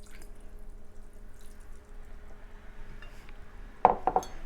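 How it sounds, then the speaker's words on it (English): Pickled cabbage brine is poured into a jar and spills over, heard as a quiet background and then a brief burst of splashing and clinking glass near the end. "and pour it into the jar, spilling all over."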